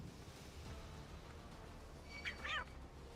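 A small cat-like creature in Final Fantasy XIV lets out two short, high meows near the end, faint over a low, steady ambient rumble.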